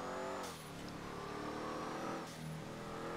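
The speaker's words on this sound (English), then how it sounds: "I think this thing has a big engine in real life, so the sound definitely could be a lot better" A Z-Type classic luxury car in GTA 5 Online, styled after a Bugatti, revs its engine steadily with a continuous droning tone and two brief dips in pitch.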